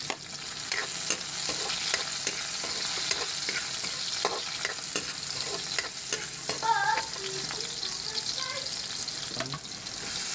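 Tomatoes stir and sauté in a hot pan with a continuous soft sizzle. Scraping and clinking of the utensil breaks in now and then, and a few faint higher tones appear near the end.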